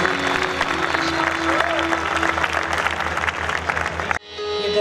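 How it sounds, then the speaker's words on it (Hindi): An audience at an evening Christian worship gathering claps loudly and steadily, a dense wash of applause that cuts off abruptly near the end, with a voice over it. "आइए खुदा के जलाल के लिए हम जोरदार तालियां बजाएंगे।"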